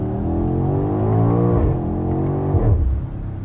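A 2021 BMW X6M Competition engine revs in first gear, a loud, steady rising drone heard from inside the cabin, dipping and climbing again before easing off near the end.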